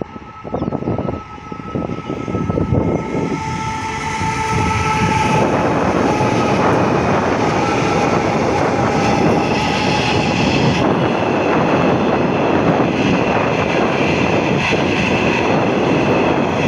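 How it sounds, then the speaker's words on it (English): A heavy Genesee & Wyoming coal train rumbles past close by, building into a loud continuous roar of wheels and cars, with a horn sounding early on. "Now I'll film this Genesee to Wyoming coal train coming through."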